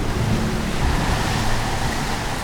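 Rough seawater surges and floods over the bridge of the ferry Estonia as she sinks, a loud, constant churning wash of water and wind with no letup.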